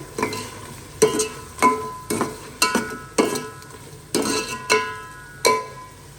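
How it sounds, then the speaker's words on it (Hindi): Black pepper, salt and cinnamon fry in a pan, the sizzle broken by about ten sharp scraping stirs spaced in a loose rhythm, close and fairly loud, with no talk. "इसको करते हैं अच्छे से फ्राई"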